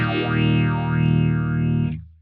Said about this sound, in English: I'm going to add a modulation pedal. My favorite is the MXR Phase 90.